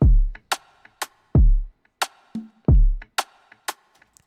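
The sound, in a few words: percussion sample with delay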